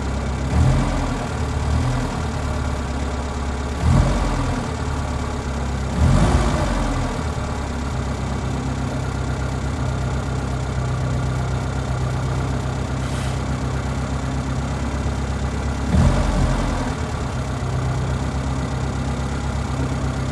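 A cold Mini engine idling on Gozo, a steady, slightly rough mid-low drone that runs the whole time with a few brief louder surges, close and alone with no voices.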